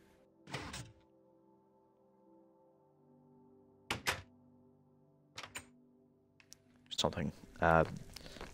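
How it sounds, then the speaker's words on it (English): Heavy doors thud and clank shut inside a crypt in a video game, several separate knocks and slams spread out over a quiet tonal backdrop, with a final cluster of rattling impacts near the end. "So, we'll close these doors."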